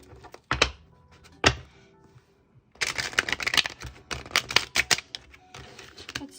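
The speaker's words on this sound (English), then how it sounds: "give it one more shuffle and then we're good to go" A tarot deck shuffled by hand: two sharp knocks of the cards, a pause, then a long, loud run of rapid clattering flaps close up, with no voice over it.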